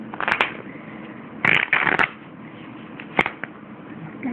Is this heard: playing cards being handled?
yes